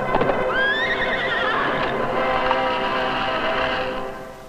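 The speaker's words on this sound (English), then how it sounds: "This is the midnight ride of Paul Revere in the daytime." A horse whinnies loudly in a rising then falling neigh, with hooves clip-clopping beneath, played as a galloping ride sound effect at an outdoor water-ski show, fading out at the end.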